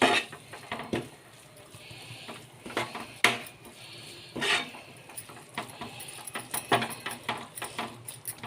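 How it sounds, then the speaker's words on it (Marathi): A spoon stirs and scrapes spices in a cooking pot of dum cabbage bhaji, giving irregular clinks and scrapes at close range against a steady background hum. "आता मी मिक्स करून घेते थोडं।"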